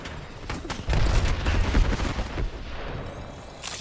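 Rapid gunfire bursts in an Apex Legends pro league match, close and loud, with a heavy cluster of shots in the middle that thins to scattered fire and fades toward the end.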